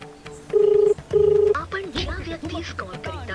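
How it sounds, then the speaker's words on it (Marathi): A landline or mobile phone being dialed to call a village head, with two loud, steady electronic tones, each lasting about half a second, followed by people talking. "सरपंच साहेबाला फोन लावा ना. थांब लावतो."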